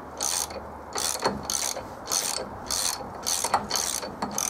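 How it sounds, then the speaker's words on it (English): Morris Minor engine with spark plugs removed, turned over by hand to prime the oil pump, giving a close, loud run of rhythmic ratcheting clicks in regular bursts with short pauses between, alone with no talk. "we're manually spinning the oil pump over to get oil into everywhere it needs to be before we try and start"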